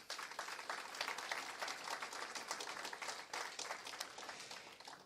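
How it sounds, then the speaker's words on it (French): A graduation ceremony audience on a Saint-Jérôme campus claps for the pianist, dense and lively applause that rises and dips in waves throughout, moderately distant and with no talk over it. "Je vous demande d'applaudir notre pianiste, s'il vous plaît, Mme Claire Duguay."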